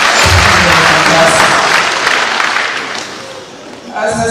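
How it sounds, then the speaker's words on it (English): Loud, dense audience applause at a community meeting fills the room steadily, then thins and fades toward the end before a brief final swell. "So please give them another round of applause."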